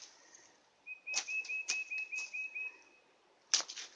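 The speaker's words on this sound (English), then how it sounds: "Listen to the bird." A small outdoor bird gives a quick run of bright, evenly spaced chirps in a rhythmic series, close and clear, with a few sharp clicks and brief rustles around it and no talking.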